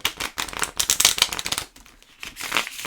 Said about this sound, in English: I'll give these a proper shuffle